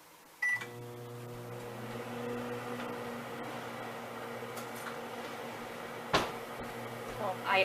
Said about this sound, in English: And then we are going to microwave that for 1 minute.